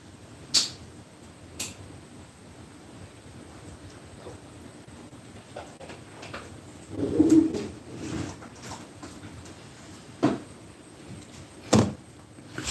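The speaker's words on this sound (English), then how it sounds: "I gotta shut this door." A door is shut indoors, heard as a few sharp knocks and thuds scattered over several seconds against a quiet room hum, with a soft, low cooing sound in the middle.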